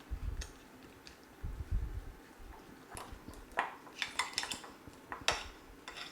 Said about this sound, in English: So I am just going to be mixing the yolks with salt, pepper, and some mayonnaise.